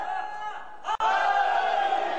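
A crowd at a majlis in Chack Mugla, Sialkot chants religious slogans in loud massed voices. The chant breaks off sharply for a moment, then resumes at full strength.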